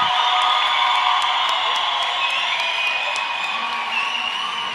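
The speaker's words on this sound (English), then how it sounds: "The crowd loving it." Crowd cheering and whooping at a roller derby bout between Argentina and Australia, a loud sustained roar of voices that holds steady through the whole stretch, with shrill shouts poking out above it.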